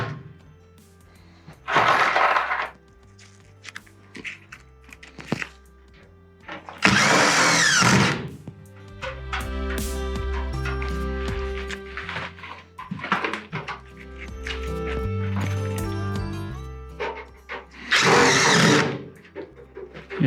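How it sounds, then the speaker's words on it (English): Power drill driving screws into a stone fireplace wall under repair, with several whirring bursts of a few seconds each and quieter handling and scraping sounds between them, close and fairly loud. "we'll just grab our drill and throw a couple more screws in there"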